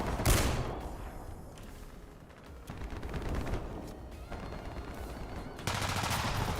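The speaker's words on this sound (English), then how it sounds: "Our guys are shooting each other." Bursts of gunfire from the video game War Thunder, with rapid repeated shots and sharp cracks, some loud and close, others more distant, running almost continuously without talk.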